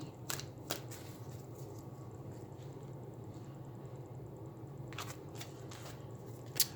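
Quiet riffling bursts of a deck of cards being shuffled, one pair near the start and another a few seconds later, over a low steady hum.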